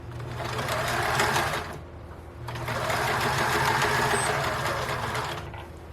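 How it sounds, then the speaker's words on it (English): Sewing machine running a stay stitch on curtain fabric, a steady loud motor hum with fast rhythmic needle chatter in two long runs separated by a brief pause, close up. "I'm going to do the stay stitch real quick at a 1/2 inch"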